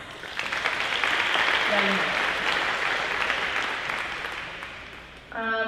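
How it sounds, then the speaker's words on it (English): Steady audience applause at a high school athletics banquet, dense clapping from many hands that swells early and holds, then tapers slightly near the end. "please give her a big round of applause for her excellent performance"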